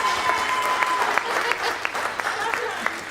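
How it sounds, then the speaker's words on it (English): Wedding guests applaud the mother of the bride, a sustained round of crowd clapping with some sharper individual claps standing out and a voice speaking over it. "Give her a big round of applause."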